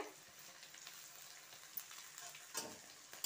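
Mutton frying in a pan with crushed ginger-garlic paste, for a mutton curry with jackfruit seeds: a steady close sizzle with scraping stir strokes, a louder burst near the end as the paste goes in.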